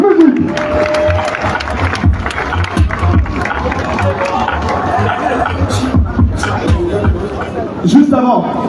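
Crowd at a presidential event in Makokou, Gabon, applauding the president's arrival, steady dense clapping and cheering filling the whole stretch, with background voices and music beneath.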